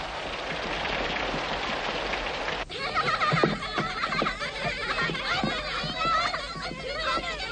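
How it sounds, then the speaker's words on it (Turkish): Rain falls steadily as a broad hiss throughout, with voices and activity mixing in over it partway through. "Yağmur da yağıyor."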